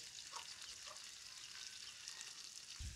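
Onions sizzle steadily in a pan over a village wood-fired stove while cooking down for chicken dum biryani, a dense continuous frying hiss with a soft low thump near the end.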